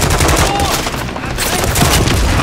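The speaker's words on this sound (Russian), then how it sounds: "Открываю огонь по вертушке." Gunfire at a helicopter in the video game Call of Duty: Modern Warfare 3 rattles in dense, loud, continuous bursts mixed with battle noise, with no voices.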